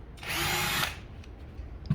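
A power drill bores a hole in a short, loud whirring burst under a second long, followed by quiet handling noises and a faint knock.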